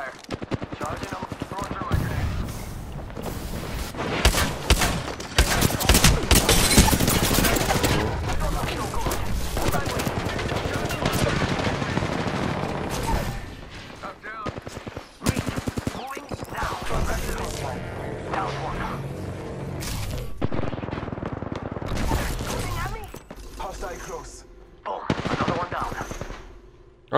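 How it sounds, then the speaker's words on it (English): Sustained automatic gunfire and rattling bursts from a video game battle fill most of the stretch, loud and dense, then thin into scattered shots, with voices talking over the action. "Opening fire."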